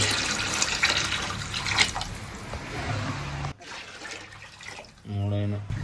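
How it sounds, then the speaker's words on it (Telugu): Water is poured into a cooking pot over ginger and ghee, a steady splashing flow under a talking voice, a brief pause, then a louder gurgling fill near the end. "అయితే నీళ్ళు పోస్తున్నాము"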